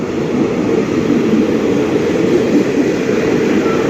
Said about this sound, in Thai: รถไฟจะถึงนะครับ